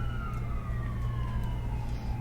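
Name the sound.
emergency vehicle sirens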